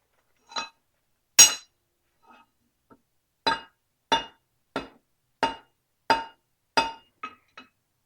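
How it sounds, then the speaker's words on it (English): A hammer strikes metal at a fabrication bench while a blacksmith's helper tool is built: about a dozen sharp, ringing clinks spaced roughly half a second apart, close and loud, with no talking. "Try and hammer that down just a little bit."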